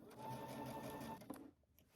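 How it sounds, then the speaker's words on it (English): A sewing machine runs in a steady, even whir while stitching a 5/8-inch seam on a Simplicity 9550 pattern garment, then stops abruptly, leaving faint room noise. "we're gonna sew using 5/8 of an inch seam allowance until we get to the center front dot"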